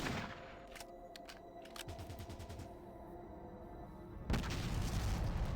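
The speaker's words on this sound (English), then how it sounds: "we're going to have Brian move up and use that missile launcher" Missile launcher fire in the video game Fallout Tactics: sharp gunfire-like bursts and booms, a rapid string of repeated shots, then a loud blast near the end, with no talking.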